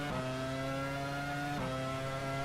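Formula 1 engine of an Arrows car in the F1 Challenge racing game, a steady high-pitched drone held at one pitch, with a quick gear shift and slight pitch drop about halfway through. Continuous and loud, no voices.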